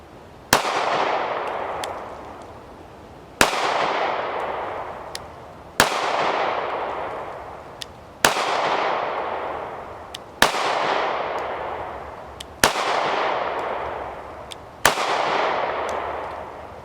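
Seven sharp, loud pistol shots from a Ruger EC9s ring out at steady intervals of roughly two to three seconds, each crack followed by a decaying echo, fired at black steel targets with no talking.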